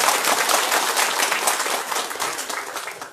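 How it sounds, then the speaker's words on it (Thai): Steady applause from a large crowd at an outdoor political rally in Yala, southern Thailand, dense clapping filling the whole stretch at an even level with no voices on top. "ถ้าพี่น้องเห็นด้วยก็เสียงปรบมือกันหน่อยครับ"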